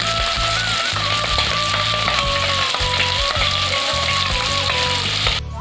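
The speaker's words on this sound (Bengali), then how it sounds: "মাছটা কড়া করে ভাজা হয়ে গেছে" Small fish sizzle and crackle in hot oil while being fried crisp for a bottle gourd ghonto, a steady dense frying hiss with light stirring clinks throughout, close and loud, cutting off near the end.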